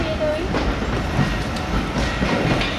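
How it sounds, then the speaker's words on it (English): A train passes on the Severn Valley Railway heritage line: a steady, loud rumble with rhythmic clickety-clack of wheels on rail joints, and voices faintly present beneath it. "James, look at this train here going."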